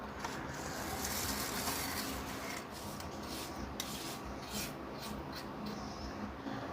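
A 3D-printed plastic scraper rubs and rasps against aquarium glass or substrate in a planted tank, a soft, steady scratchy scraping at close range with no talking.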